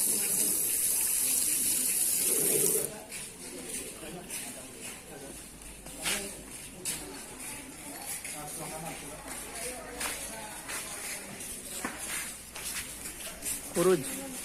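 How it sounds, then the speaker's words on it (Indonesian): Running tap water during handwashing with soap, a loud steady rush that stops after a few seconds, followed by faint rustling and a busy background where people talk. "Cuci tangan."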